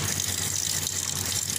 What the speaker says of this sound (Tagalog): dagdagan natin ng kaunting tubig